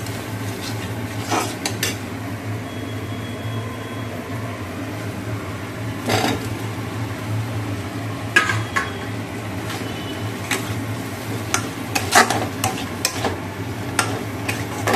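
Fried potatoes go into a pan of spiced potato curry masala, with scattered clinks and scrapes of a utensil stirring against the pan over a low, steady hum.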